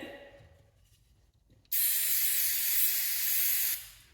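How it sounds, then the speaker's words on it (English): A single sustained hiss of aerosol spray starts abruptly after a quiet moment, holds for about two seconds, then cuts off, sprayed inside part of a Troy-Bilt chainsaw that is not working. "Might spray the inside of this a bit."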